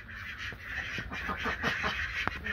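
A flock of ducks quacking steadily in a rural enclosure at feeding time, a busy overlapping chorus of nasal calls throughout, fairly close, with no talk.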